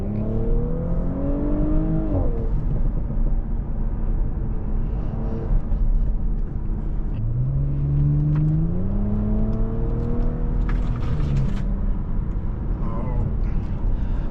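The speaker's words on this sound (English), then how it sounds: "I did spec it out with the sports exhaust and the sports resonator." An Audi S5 Sportback with sports exhaust and sports resonator revs and shifts through rising and falling pitches, throaty, heard from inside the cabin under a constant road rumble.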